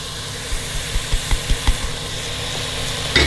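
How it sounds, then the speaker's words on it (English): Tomatoes and masala spices frying in a pan for a meat and lauki dish, a steady sizzle with soft rhythmic stirring knocks in the middle and a brief louder scrape near the end, no voices. "I'm also going to add the masalas at the same time, so the masalas and the tomatoes can fry"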